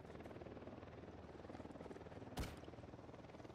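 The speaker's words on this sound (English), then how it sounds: "Helicopter." Helicopter in the video game Ghost Recon Wildlands, a steady rotor drone throughout at moderate distance, with one sharp burst partway through, alone without voices.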